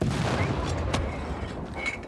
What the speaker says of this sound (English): Plymouth is firing on our cannon, which is fine.